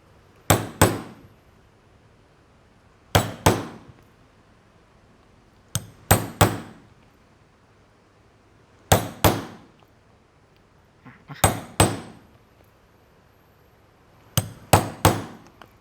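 A hammer strikes a punch into leather for a cap in sharp pairs of blows, with steady pauses between each pair. The taps are close and crisp, with no talking.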